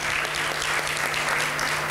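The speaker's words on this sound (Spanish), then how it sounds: "Denle un fuerte aplauso a los hermanos." Steady, full applause from a church congregation for the choir members, many hands clapping together evenly and loudly throughout with no voices above it.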